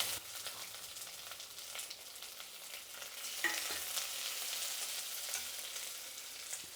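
Mustard seeds, garlic and onion fry in hot oil with a constant fine crackling sizzle, close and moderately loud, broken by a few spoon strokes stirring the pan.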